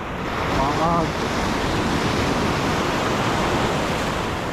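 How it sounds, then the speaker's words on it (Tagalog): Big ocean waves surge and wash onto the shore during shore-cast fishing in the Philippines, a continuous loud roar of surf with wind buffeting the microphone and a brief voice underneath. "Laki ng alon niya."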